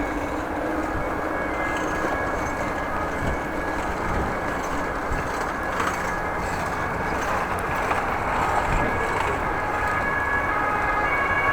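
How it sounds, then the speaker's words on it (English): An ambulance siren sounds through steady, loud road and wind rumble during a bike ride in the Netherlands, its wail faint and blended into the constant noise. "That sounds like an ambulance."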